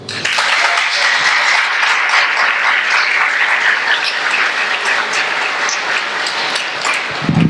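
Loud, sustained applause from a large church congregation during a sermon, a dense wash of clapping that holds steady throughout with no talking.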